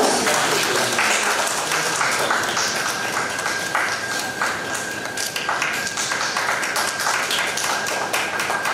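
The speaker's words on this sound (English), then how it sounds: "Can we have a big round of applause?" A crowd at a literature festival session applauds steadily, a dense patter of clapping that carries on without letup for several seconds.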